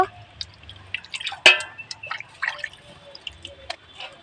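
Chicken meat is washed under water, giving scattered drips, splashes and wet squishing handling sounds, close and fairly faint, with one sharper splash near the middle and a low hum underneath.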